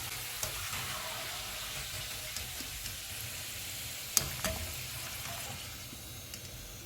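French fries bubble in hot oil, a soft, even, continuous sizzle heard close but quiet, with one brief clink partway through and no voices.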